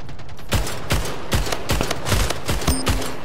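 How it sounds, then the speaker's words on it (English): Rapid gunshots from the arena shooter video game Splitgate, a close, loud burst of about nine sharp cracks at a fairly steady rhythm over continuous game background noise. "Oh, another shot from GUNGUILD."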